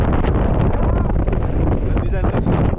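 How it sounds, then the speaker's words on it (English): Strong wind buffets the microphone outdoors on a windy day, a loud continuous rumbling roar that fills the clip, with a voice faintly present underneath. "I don't know you guys can hear me or no because of the wind"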